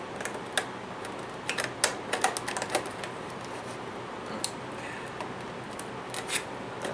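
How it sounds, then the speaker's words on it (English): Scissors snip and scrape at plastic amiibo packaging, a scattering of short clicks and rubbing cuts over a steady hiss of room noise, close by and fairly quiet with no voices. "whenever you're trying to use scissors to open boxes like these, is that sometimes the plastic can be a little bit hard to get out"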